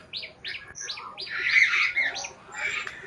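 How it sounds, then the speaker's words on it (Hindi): A cartoon crow caws loudly in a series of rapid, harsh calls, several short bursts followed by a louder, busier cluster near the middle, heard alone. "तभी वहाँ कालू कौआ उड़ता हुआ आता है। वह जोर जोर से काँव काँव करता है।"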